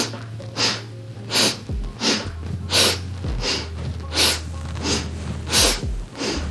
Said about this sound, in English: adding the sniffing breath that is getting into the pituitary gland